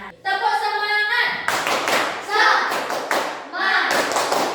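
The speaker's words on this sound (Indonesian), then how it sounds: "Nah, tepuk semangat." A classroom of pupils does a rhythmic group clap in bursts during a student teacher's lesson, young voices chanting loudly along with the claps.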